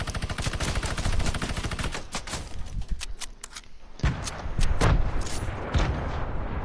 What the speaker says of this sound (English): Spool that minigun up.